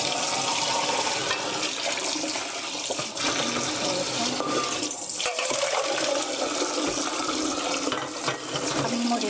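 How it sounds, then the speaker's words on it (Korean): Cold tap water runs steadily into a sink to cool freshly boiled quail eggs, a close, even rush of splashing water with no break for the full length. "찬물에 식혀주시고요."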